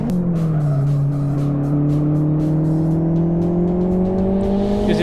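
Racing cars in the Live for Speed sim race down the start-finish straight, a steady loud engine drone rising slowly in pitch as they accelerate, with tire noise and no voices.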